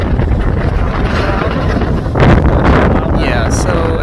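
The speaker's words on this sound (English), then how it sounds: "as you can see here, it's pretty windy" Heavy wind roars across the microphone on a beach at Jupiter Island, Hobe Sound, a loud steady rumble that surges past two seconds, with a voice speaking briefly underneath.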